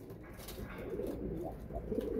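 Soft, low pigeon coos repeat close by against a quiet background, with no talking.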